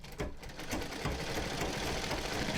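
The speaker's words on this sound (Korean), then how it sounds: "40년 전에 쓰던 재봉틀이에요" A forty-year-old sewing machine, long used by a career tailor, runs in a steady, continuous mechanical whir with a rapid rattling stitch rhythm, close and fairly loud throughout.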